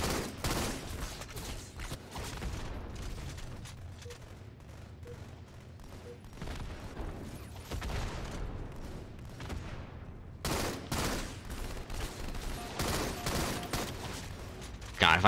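Bursts of rapid automatic gunfire and scattered shots from enemies in the video game Halo MCC rattle almost continuously, loud and dense, with sharp impacts near the end.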